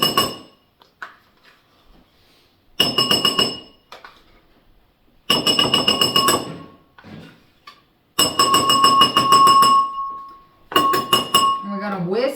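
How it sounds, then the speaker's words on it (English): Wire whisk clinking rapidly against a glass bowl while sour cream is beaten, in several bursts of steady metallic chatter separated by short pauses, close and fairly loud. "And we're going to whisk that together."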